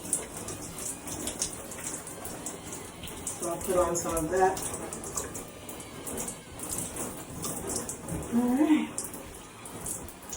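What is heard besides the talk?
shower water running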